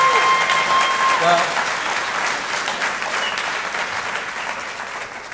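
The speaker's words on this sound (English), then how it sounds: "Let's give them a round of applause." A graduation ceremony audience at St. Paul College's Gateway to College program breaks into strong, sustained applause that slowly tapers. A speaker's voice briefly cuts in over the clapping near the start.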